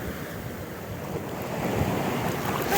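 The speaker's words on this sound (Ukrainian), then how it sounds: "Сьогодні воно дуже тепле, дуже комфортне, але дуже великі хвилі" Large sea waves break on a crowded Odesa beach on a warm day, a loud continuous surf roar with wind noise that swells toward the end.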